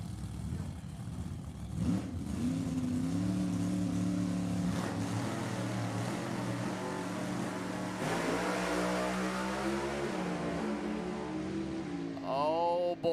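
A funny car drag race run at Sacramento Raceway: engines roar in a long rising howl as the cars launch and pull away, fading into distant drone before a final revving burst, with faint crowd noise.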